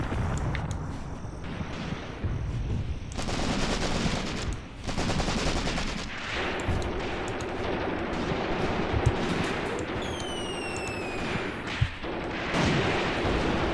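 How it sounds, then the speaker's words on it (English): A mortar hit and gunfire in Graviteam Tactics, a WWII game, with continuous rattling bursts of machine-gun fire and heavy booming impacts that fill the scene, loud and dense throughout, with a few whistling streaks near the end. "That was just a lucky mortar hit."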